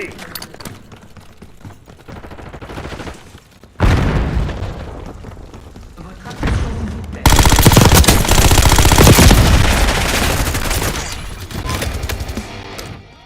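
Video game gunfire crackles in sustained bursts of rapid automatic shots mixed with booming blasts, loud and dense, growing heavier partway through, with game voice callouts over the top.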